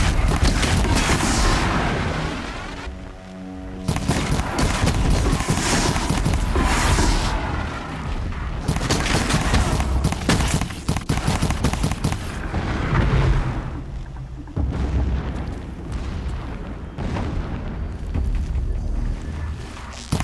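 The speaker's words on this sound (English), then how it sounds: "Explosions in the distance." Booming explosions rumble in the Horizon Zero Dawn game world, a dense, continuous roar of blasts and crackling fire that stays loud throughout, with no voices.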